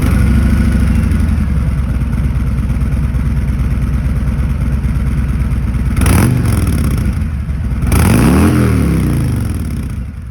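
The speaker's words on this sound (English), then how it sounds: "So first, the one on the left, the factory exhaust." A car engine with its factory exhaust and mufflers idles with a steady low rumble, then revs sharply twice, the exhaust note rising and falling with each blip of the throttle.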